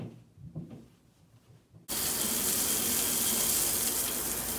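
Shower water switches on abruptly and runs loud and steady as a broad, hissing spray after a quieter stretch of soft handling noises.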